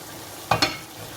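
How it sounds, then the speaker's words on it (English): Periwinkles dropped into a pot of simmering afang soup, two quick splashy impacts close together, near and fairly loud, with no voices. "I'm going to be adding this periwinkle right now"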